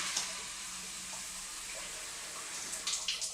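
A shower head set to spray only mist gives a continuous fine hiss of water in a house bathroom, steady and close, with a few louder spatters near the end.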